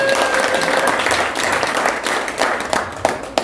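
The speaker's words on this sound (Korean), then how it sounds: "박수 한번 주십니다." An indoor forum audience gives steady, dense applause that runs for the whole stretch and thins slightly toward the end, with no clear talking over it.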